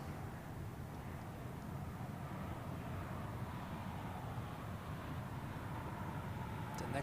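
Airplane climbing away after takeoff at Zurich Airport, a steady, distant low roar of jet engines that holds evenly with a faint wind-like hiss.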